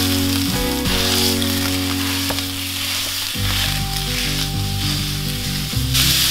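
Italian sausage and ground beef browning in a pan, a loud continuous sizzle close up with some stirring and a steady tonal hum underneath, no voices.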